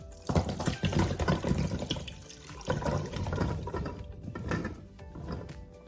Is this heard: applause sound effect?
no